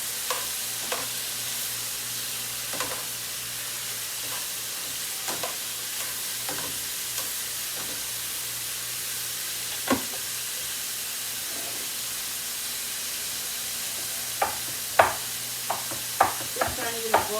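Onions sizzle and fry quietly in a pan on lowered heat, a soft steady hiss broken by scattered pops and crackles that grow more frequent toward the end.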